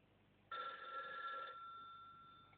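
An old-style telephone bell rings in one short burst of about a second, then a fading tone lingers, faint and alone against a quiet background.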